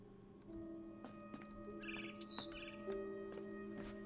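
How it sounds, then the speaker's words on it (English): A barn swallow chirps outside a window in the video game What Remains of Edith Finch, giving a few short, bright tweets over a quiet, faintly humming ambience. "It was a barn swallow going back to her nest."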